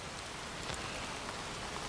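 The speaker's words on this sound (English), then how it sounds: "It's raining. It's raining at the moment, but we're going to soon see the end of that rain." Soft, even rain falls outside throughout, a fine continuous hiss of drops with no talk over it.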